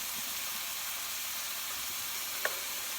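Chicken sautéing in a hot pan for garlic Parmesan chicken gives a faint, steady sizzle and hiss, broken once near the end by a brief light clink.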